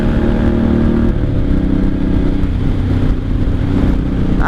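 A 1983 Honda Shadow VT750C 750 motorcycle engine runs loud and close, a steady throbbing drone that swells slightly as it revs, with no talk over it.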